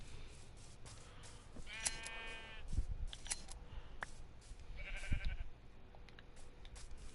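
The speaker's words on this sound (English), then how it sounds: "I get out the shears, and I shear my sheep" Minecraft sheep being sheared with shears, two short snipping shear sounds each paired with a brief bleat, faint against a quiet game background.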